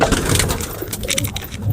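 Pigeons coo close by in a soft, throaty, repeated rolling call that overlaps itself, with faint handling rustles underneath and no talking.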